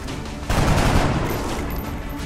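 A dense burst of rapid gunfire from the XCOM video game, loud and continuous after a brief lead-in, with overlapping shots blending into a roar.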